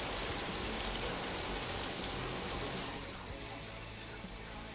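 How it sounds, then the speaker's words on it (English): Steady rain pours outside an open window, a loud, dense wash of falling drops that eases slightly partway through. "Can you hear the rain?"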